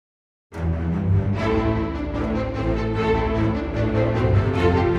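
A lush, sustained Berlin Strings orchestral string ensemble swells in after a brief silence, holding smooth chords that shift gently and continuously throughout.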